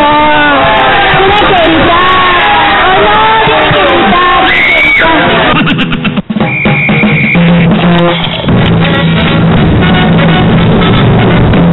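Loud, continuous crowd noise with yelling and whoops during a live television broadcast celebrating an anniversary, a dense wash of voices that later gives way to music-like tones.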